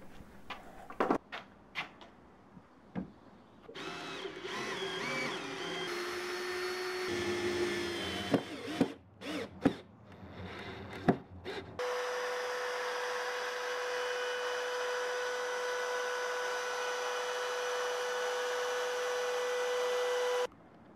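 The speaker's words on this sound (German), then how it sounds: "Zuerst habe ich es mit meinem Schwingschleifer probiert" Orbital sander working on an end-grain wooden cutting board: intermittent knocks and short bursts at first, then a loud, steady whirring hum with a strong tonal whine that runs continuously for about nine seconds.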